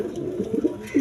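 Pigeons at a farm coo in low, throaty bursts, several overlapping close by in a short stretch with no talk.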